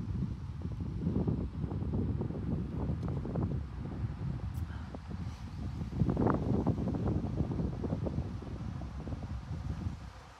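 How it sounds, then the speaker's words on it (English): Strong wind gusts across an outdoor backcountry campsite beside a lake, buffeting the microphone with a loud, continuous low roar and rustle that swells and eases for the whole stretch, with no voices. "I can't believe how windy it is today"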